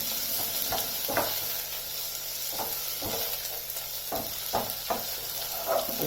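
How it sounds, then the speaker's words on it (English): Onions frying in a pan with whole spices and potatoes for vegetable pulao: a steady close sizzle with occasional stirring clatters. "So that's the onions, they are frying nicely now."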